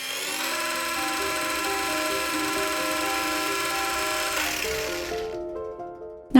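A resin finishing machine runs steadily with a loud, even motorized whine and strong harmonic tones, then winds down near the end and stops with a brief knock.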